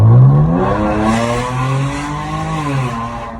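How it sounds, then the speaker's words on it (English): V6 engine fitted with a Mopar air intake revs slowly, its loud close tone climbing then easing and rising again over a few seconds, a smooth throaty drone with no voices. "I'm going to go with a slow rev. So y'all can hear what it sounds like when I cruise. Here's the rev."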